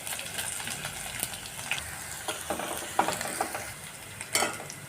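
Crushed and finely chopped garlic cloves fry in oil for pakoda kadhi, giving a soft, steady sizzle broken by crackles and a few scraping clicks, with no voices.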